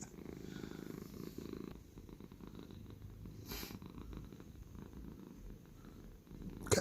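A domestic cat purrs close to the microphone, a soft continuous rumbling drone that holds steady throughout with faint background noise and a brief rustle at the end.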